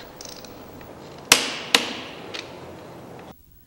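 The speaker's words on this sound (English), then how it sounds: "The torque wrench has reached its preset limit when it makes a loud click" A torque wrench snaps off two loud, sharp clicks in quick succession at its preset limit while tightening lug nuts on a tire, each followed by a short ringing decay, then quiet.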